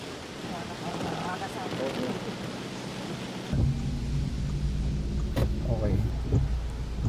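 Heavy rain pours along Kennon Road in Baguio City, a dense steady roar with a deeper rumble and wind buffeting joining midway, loud and continuous under a news reporter's voice.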